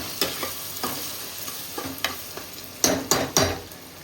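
Chicken being stirred in a pan while it fries, heard as a series of distinct scraping, clattering stirs over a low, steady sizzle, with three sharper utensil strikes near the end.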